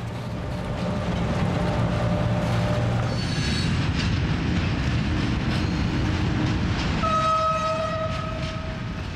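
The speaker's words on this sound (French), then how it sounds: "la CC1100 va gravir la butte en tête de son train, pour le refouler ensuite en sens inverse" Freight wagons roll behind a CC1100 locomotive at a rail hump yard, a steady loud rumble with metallic wheel squeal and high screeching tones rising and fading over the run, heard alone without voices.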